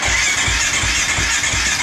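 A motorcycle's starter cranking the engine after a KMS tip-over switch eliminator was installed, a close, loud, steady churning with a regular pulsing rhythm that continues without catching.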